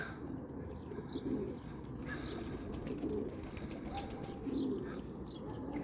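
Pigeons coo softly and repeatedly in a loft, low and fairly faint, with a few chirps and light rustling around them.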